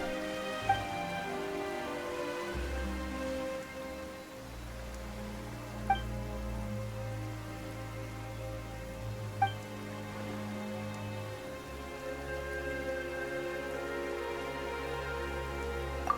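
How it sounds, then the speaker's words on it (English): Steady rain falls in Genshin Impact's Fontaine region, a continuous wash of drops pattering on surfaces over a low ambient drone, with a few faint isolated clicks and no talking. "Why is it raining all of a sudden?"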